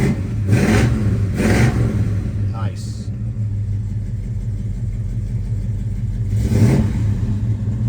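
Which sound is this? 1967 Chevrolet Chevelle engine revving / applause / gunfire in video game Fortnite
1967 Chevrolet Chevelle engine revving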